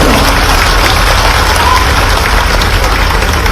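Loud, dense applause from a large audience at a Madhya Pradesh government event where the Chief Minister announces cash awards for performers; steady, continuous clapping fills the whole stretch with no pauses.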